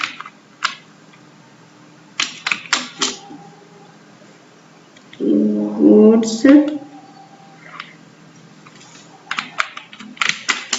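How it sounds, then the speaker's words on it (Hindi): A computer keyboard in Tally Prime accounting software, heard as scattered sharp key clicks in short bursts, some close and crisp, with a brief stretch of talking in the middle. "हम इसे इंटर प्रेस करके आगे बढ़ेंगे और इस एंट्री को हम नरेशन लिख दें"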